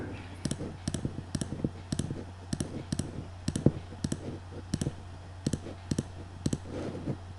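Computer mouse clicks while working in structural design software, a series of crisp single and double clicks at an irregular pace over a faint steady hum, close and without talking.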